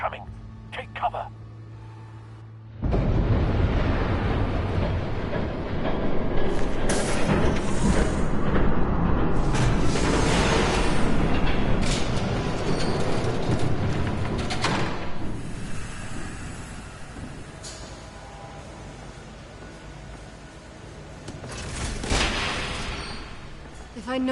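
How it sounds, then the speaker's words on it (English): A train rumbles past in the Batman Telltale game, a loud sustained roar that starts abruptly and swells, clanks and fades over twenty seconds, with scattered sharp metallic bangs. "There's a train coming."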